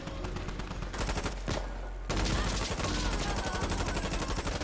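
Suppressive gunfire in the shooter game Vigor: dense, sustained bursts of rapid automatic fire that cut out briefly and then resume louder and heavier, with overlapping shots rattling continuously.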